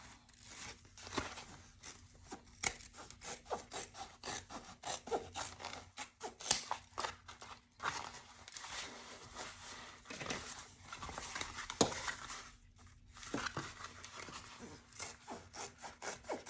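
Scissors snipping and trimming the fabric of a sewn tote bag, a steady run of short cutting and rubbing strokes up close, with a brief pause near the end before the cuts resume.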